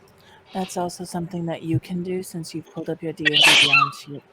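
A sharp, high-pitched sneeze bursts out near the end of a tabletop Dungeons & Dragons session, cutting in between stretches of steady conversation around the table.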